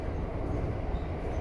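Keikyu New 1000 series train running between Keikyu Kamata and Keikyu Kawasaki, heard from inside as a steady broadband rumble of wheels and motors without any distinct events.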